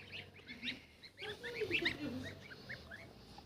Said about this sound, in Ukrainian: Це гусак